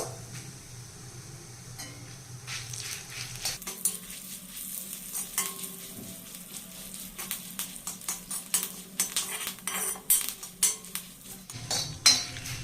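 Dry curry leaves fry in a pan for a Telugu ghee karam idli dish, giving a steady sizzle with clinks and scrapes of a spoon stirring against the pan, growing busier and louder toward the end.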